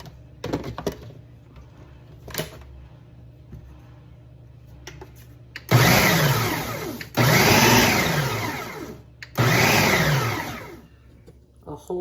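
A blender pulses a crab meat stuffing with melted butter in three loud bursts of a few seconds each, with quieter kitchen handling sounds between them.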